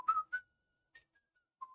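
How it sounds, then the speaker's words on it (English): A person whistling the Shire theme from Lord of the Rings, a few short, soft melodic notes with gaps between them, close and alone. "I start whistling the Shire theme."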